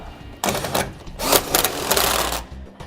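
Rapid ratcheting clicks from a wrench tightening nuts on Roadmaster rear anti-sway bar hardware on a 2012 Ford F-53, in short bursts with brief pauses, close and fairly loud.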